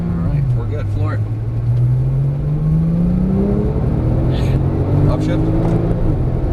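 A Porsche Turbo S accelerates hard at full throttle, its engine note rising steadily in pitch, close and loud, with a shift near the end and voices talking over it.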